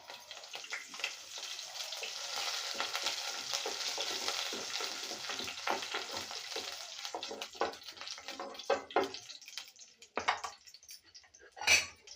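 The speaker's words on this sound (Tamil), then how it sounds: "கருவேப்பிலை பொரிஞ்சிடுச்சு" Curry leaves and mustard seeds frying in hot oil, a steady close crackling sizzle that thins into scattered pops and sharp spits toward the end.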